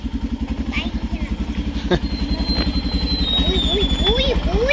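A motorcycle engine idles and revs close by with a steady, pulsing chug, with children chattering over it.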